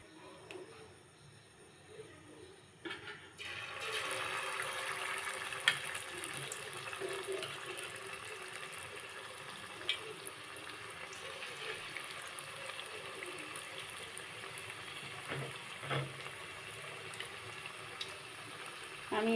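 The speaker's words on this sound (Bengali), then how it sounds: "এখন আমি পকোড়াগুলো ভেজে নেব।" Bone-in chicken pakoras sizzle in hot oil in a frying pan over a medium flame, a steady broadband hiss that starts suddenly after a quiet moment and keeps going with small pops.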